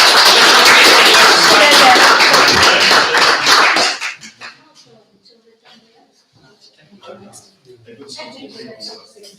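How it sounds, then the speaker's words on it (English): A round of applause at a full council meeting: a small group claps briskly for about four seconds, then it stops and faint murmured talk and scattered small noises follow in a quiet room. "I get a round of applause?"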